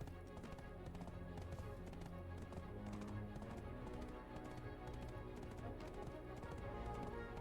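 Horse hooves clip-clopping in the Black Desert video game, with a tier 8 horse trotting in a steady, even rhythm under a constant bed of game music and ambience, without pause.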